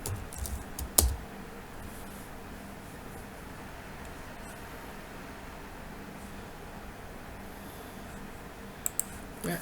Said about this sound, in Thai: ผมพิมพ์คำว่าแพนโทนง่ายกว่าแพนโทน TOA นะฮะ